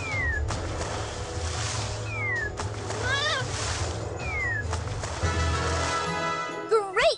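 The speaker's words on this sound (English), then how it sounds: "That cat looks mad." A cartoonish cat in the My Little Pony Harmony Quest video game lets out several angry rising meows and yowls over game music and splashy effects, ending with a short burst of jingling chimes.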